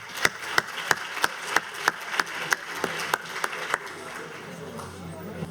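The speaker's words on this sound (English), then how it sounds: "And a big applause to the panelists" At an Africa Industrialization Day 2019 conference, the audience gives the panelists sparse, evenly spaced claps that stand out as distinct sharp hits over a quiet room, then thin out and fade.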